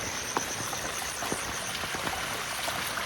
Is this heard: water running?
yes